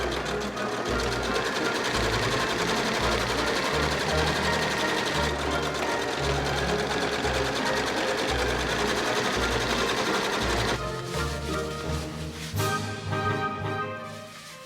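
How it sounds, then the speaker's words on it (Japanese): A sewing machine running continuously as it stitches the side seams of a facing on a remade garment, a loud close rapid mechanical whirr with a rhythmic knocking pulse that slows near the end. "見返しの脇を縫おう。"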